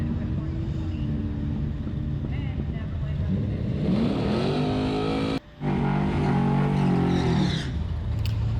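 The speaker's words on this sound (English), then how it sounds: "this is my brother's Nova, racing against my buddy Rudy's C10" A Chevy Nova with its turbo removed drag races a C10 pickup at a drag strip, engines roaring loud and steady as they accelerate down the track, the noise swelling partway through before briefly cutting out and resuming.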